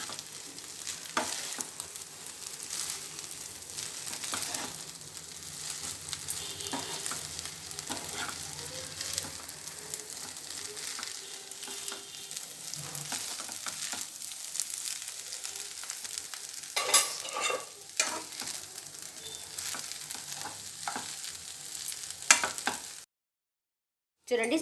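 Street-style egg noodles stir-fried with a half spoon of pepper powder, a steady sizzle with frequent rhythmic spatula scrapes and tosses against the pan over a long stretch, then a brief cutoff; no voices.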